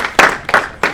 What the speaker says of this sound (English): Round of applause for yourself for making it out today.